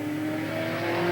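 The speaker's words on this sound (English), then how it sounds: "first qualifying lap, driving a 1982 Chevrolet Camaro, powered by a 327 Chevrolet V8" A 1982 Chevrolet Camaro stock car with a 327 Chevrolet V8 on a qualifying lap at Willamette Speedway, its engine holding a steady, loud roar with sustained harmonic drone throughout.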